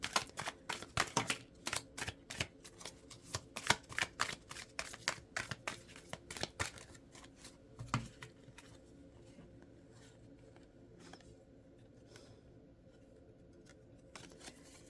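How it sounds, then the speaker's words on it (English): Rapid, crisp card shuffling with quick riffling snaps, busy at first, then thinning out to occasional soft taps and near quiet. "Let's see if I can shuffle them."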